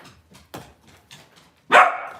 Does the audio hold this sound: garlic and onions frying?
no